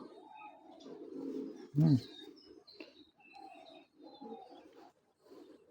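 Foreign racer pigeons coo softly nearby in a series of low, throaty calls with one louder burst, while a person talks quietly in between.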